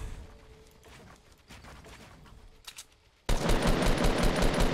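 Gunfire aimed at an enemy in the video game Fortnite: after quiet game ambience with a few scattered clicks, a burst of loud rapid shots erupts and continues to the end.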